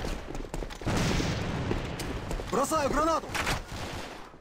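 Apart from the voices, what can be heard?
gunfire in the video game Alliance of Valiant Arms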